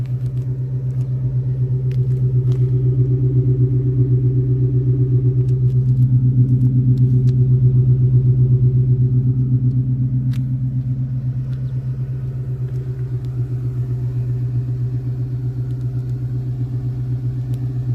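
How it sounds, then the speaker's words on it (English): A deep, rumbling V8 from an Infiniti M45 (VK45DE) with blast-pipe exhaust idles steadily nearby in the cold, its low exhaust burble swelling slightly midway before settling back, no voices. "So it has that really deep V8 sound that I really wanted"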